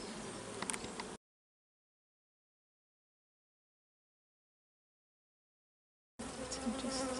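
Honeybees buzzing in an opened hive during a shook swarm, a dense close hum heard briefly at the start, then cut to silence for several seconds before returning at the end.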